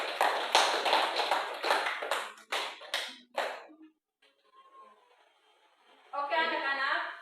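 Classroom applause from students, a loud burst of clapping for about three and a half seconds that tapers off, followed by quiet murmuring and then people talking.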